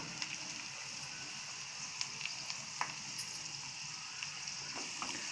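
Asafoetida dropped into hot oil for a tadka tempering for amla chutney gives a steady, even sizzle with small crackling pops, close and continuous, with no voices.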